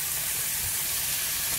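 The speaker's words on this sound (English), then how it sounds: "y'all hear it sizzling." Hot grease in a cast iron skillet hisses steadily as corn goes in, a continuous close frying sizzle with no voices over it.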